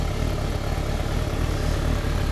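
Steady close rumble of a carburetted Suzuki Bandit 1200S motorcycle engine, a deep continuous exhaust throb holding at an even level with no clear rise in pitch.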